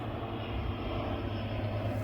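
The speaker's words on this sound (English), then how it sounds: "You have to excuse the airplanes up above." Propeller airplanes drone overhead above a homestead garden near Oshkosh during EAA fly-in week, a steady, continuous rumbling engine hum heard alone with no talk.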